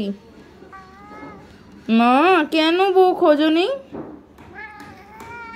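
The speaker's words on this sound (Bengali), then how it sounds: "মিয়াও মিয়াও করে" A cat meows several times, loud and close, drawn-out calls between bits of quiet talk from a person.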